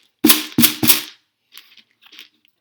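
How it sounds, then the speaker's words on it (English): Three sharp rattling shakes of a homemade shaker made from a Tupperware container filled with popcorn, loud and close, followed by two faint softer rustles. "I made my own little snare drum using a Tupperware container and some popcorn."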